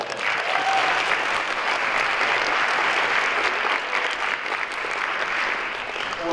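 An audience at a school consortium awards ceremony claps steadily and evenly for about six seconds, a dense, sustained round of applause filling the hall.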